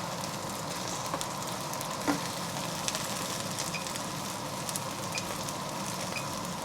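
Eggplant frying in hot oil in a pan gives a steady, close sizzle that carries evenly throughout, with light crackles and no talking.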